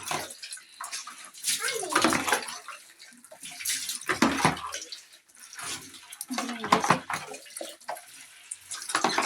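Water splashes and runs while a carpet is rinsed during a deep clean, with brushing-like scrubbing mixed in; the wet rushing sound surges and fades in uneven bursts throughout, fairly close.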